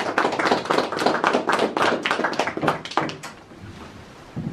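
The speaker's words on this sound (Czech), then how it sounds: "jestli my jsme jim mohli prosím vás zatleskat" A small indoor audience claps by hand, a sharp, close burst of scattered claps that thins out and fades after about three seconds, with no talking over it.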